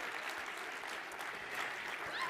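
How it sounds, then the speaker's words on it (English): An audience applauds Ryan and the team at The Gathering in Banff, Canada: a steady, fairly distant wash of crowd clapping that carries on evenly without a break. "Big round of applause again for Ryan and the whole team from The Gathering for putting this on."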